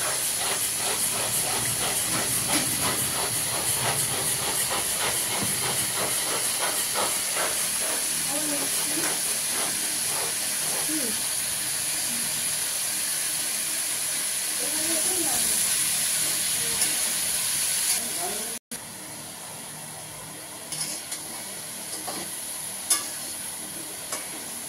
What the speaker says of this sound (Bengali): এখন আলু ফুলকপিটা কষা হচ্ছে